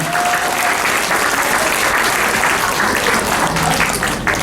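A crowd claps loudly as the Hangang Ara boat departs from Yeouido Hangang Park at a volunteer appreciation event, dense continuous applause lasting several seconds with a few voices faintly underneath.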